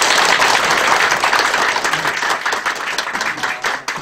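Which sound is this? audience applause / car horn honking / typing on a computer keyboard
audience applause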